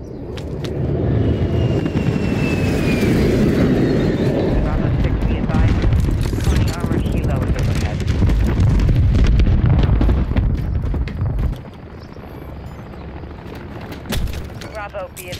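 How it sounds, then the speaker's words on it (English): An aircraft bomb run in Call of Duty Modern Warfare III: a roaring aircraft pass with heavy, rolling explosions and rumbling booms, loud and continuous for about eleven seconds before easing into lighter debris and distant thuds. "Bomb run inbound."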